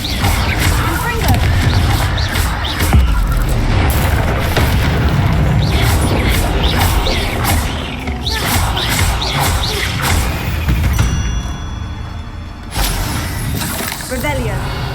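Confringo blasting spells from the video game Hogwarts Legacy, with dense, repeated booming explosions and crashing impacts that keep coming throughout, mixed with other game effects.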